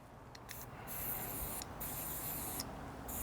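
An aerosol can of CLP gun cleaner sprays onto a Glock in short, loud hissing bursts, a few in quick succession close up, with brief pauses between them.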